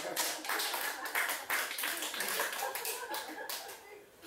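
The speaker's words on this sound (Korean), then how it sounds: "박수 한번 쳐야 돼." Audience clapping at a Korean Christian broadcast appearance by a pastor, fairly quiet and a little distant, a brief burst of mixed claps that fades toward the end, with faint voices underneath.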